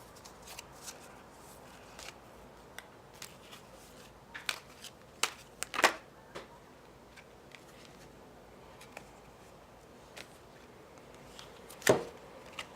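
Wisdom of the Oracle cards by Colette Baron Reed shuffle softly, with quiet rustles and a few sharper slaps and riffles scattered through an otherwise hushed room, no voices.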